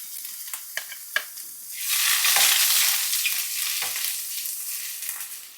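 Chopped ginger and garlic hit hot oil in a pan for chicken fried rice. A few light utensil taps come first, then a loud burst of sizzling that settles into steady, crackling frying.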